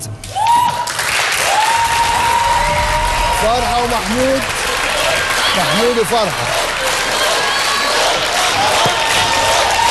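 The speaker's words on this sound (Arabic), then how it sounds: "تشجيع في الاستوديو" Studio audience at a television quiz show cheering and applauding steadily throughout, with a host's voice and a contestant's replies heard over the crowd noise.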